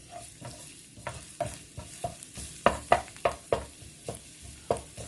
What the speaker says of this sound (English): sunflower oil to saute my garlic, about 2 tablespoons.